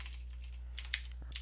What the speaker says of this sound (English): we are going to type out a short method